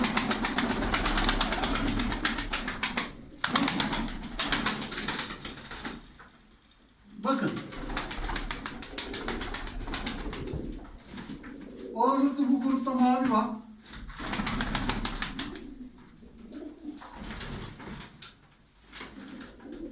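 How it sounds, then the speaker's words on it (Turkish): Flock of tumbler pigeons at a loft, with soft cooing and bursts of wing flapping mixed with steady rustling; someone talks over much of it. "Bakın bunlar hepsi oyun kuşları."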